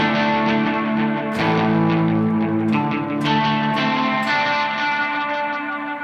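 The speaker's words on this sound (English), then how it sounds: "it actually clips the tape and it gives it a distortion, almost a little grit to it" Electric guitar chords played through a tape echo, driven into gritty distortion with repeating echoes trailing each strum, loud and continuous.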